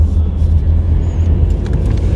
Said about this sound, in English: we're stuck in traffic